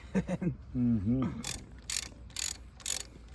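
A wrench ratchets as head bolts are broken loose on a 1939 John Deere Model B tractor engine, with a burst of close, loud clicking after a short vocal sound at the start.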